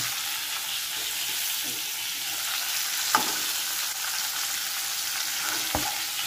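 Pointed gourd (potol) pieces fry in hot oil until lightly reddened, giving a steady, close hiss of sizzling broken by two sharp utensil clicks; no one speaks.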